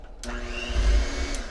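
Electric hand mixer beating chocolate crinkle cookie batter in a bowl, a steady close motor whir with a rattling low rumble that swells briefly in the middle, lasting under two seconds with no voices.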